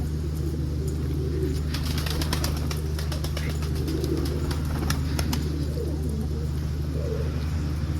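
Pigeons in a loft coo softly and steadily, and wings flap now and then, over a constant low mechanical hum, with no talking.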